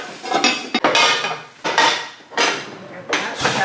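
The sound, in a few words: new pans from a pan set being unboxed and handled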